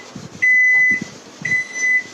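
A microwave oven finishes with two long, steady electronic beeps, loud and close, over a faint kitchen background.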